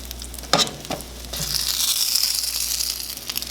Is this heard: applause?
no